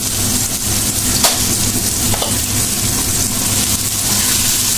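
Minced meat frying in a pan with tomato, a dense continuous sizzle with faint stirring scrapes, loud and close throughout.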